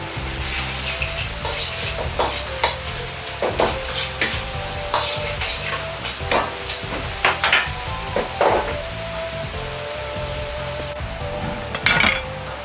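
A utensil scrapes and clinks against a pan as a Chinese-style curry sauce, thickened with potato starch slurry, is stirred, with a low bubbling simmer underneath.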